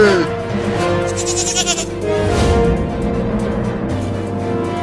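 A goat bleats loudly and repeatedly amid busy background noise, with other voices and movement mixed in.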